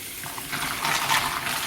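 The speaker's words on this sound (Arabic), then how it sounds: "وغادي نطلق عليه الماء" Tap water runs and splashes into a pot of mussels, a steady rushing pour that grows louder and fuller after the first half second.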